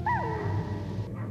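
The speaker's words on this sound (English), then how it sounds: "You are a dog." A dog in the video game Metal Gear Solid gives a short yelping whine that bends upward then falls, close and clear, followed by a low ambient game hum.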